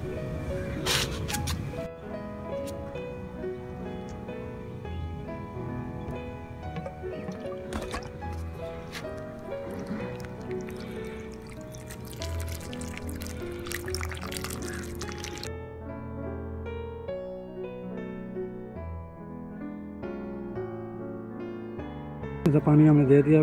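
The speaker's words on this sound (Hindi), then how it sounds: "तो अब इसको पानी दे देंगे।" Water poured onto a freshly repotted geranium, a soft steady trickle and splashing into soil, quiet and close.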